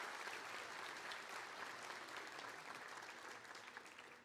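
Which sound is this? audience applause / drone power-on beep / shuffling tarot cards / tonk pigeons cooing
audience applause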